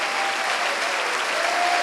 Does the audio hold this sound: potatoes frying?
no